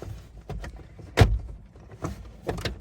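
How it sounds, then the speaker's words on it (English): Plastic side panel clipping into the interior trim of a Zafira B: a few sharp snapping clicks and short knocks spread over a couple of seconds, close and distinct, with no speech. "and then you just clip it in. The 3 clips, perfect."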